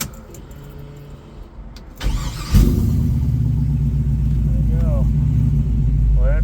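A 44-year-old Pontiac Firebird engine cranks briefly, catches around two seconds in and settles into a loud, steady idle rumble, with faint jingles and short voiced sounds over it.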